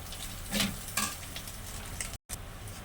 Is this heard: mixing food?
yes